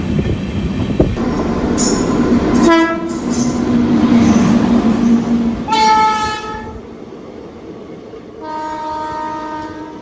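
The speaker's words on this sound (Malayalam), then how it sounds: "പയ്യന്നൂർ എത്തിയപ്പോഴേക്കും വേണ്ട നമ്മുടെ മംഗലാപുരം താമ്പര എക്സ്പ്രസ് ആണ് ഈ വന്നത്." The Mangaluru–Tambaram Express pulls into a station with loud rolling rumble and wheel noise, its horn sounding in several long blasts, close by and without speech.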